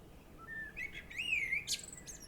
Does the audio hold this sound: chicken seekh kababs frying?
no